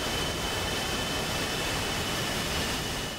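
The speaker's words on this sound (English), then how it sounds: "So I'll just wait here for the B1 Lancers to start rolling." Four B-1 Lancer bombers roll for takeoff in DCS World, a loud continuous jet roar with a thin steady whine holding at constant level throughout, no voices.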